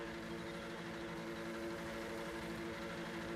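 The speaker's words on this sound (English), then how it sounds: "You can hear that car revving off that limiter." A car engine in the Project CARS 2 racing game, bouncing off the rev limiter while in reverse during a GT4 championship round at Fuji, holding a steady buzzing drone at moderate volume with no voices.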